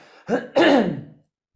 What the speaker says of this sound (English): I'm going to have a little cough